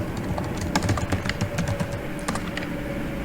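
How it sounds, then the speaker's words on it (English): Rapid keystrokes on a computer keyboard as someone types a short phrase, steady clicking taps close by and moderately loud, alone with no voices. "if I'm typing here like hello friends"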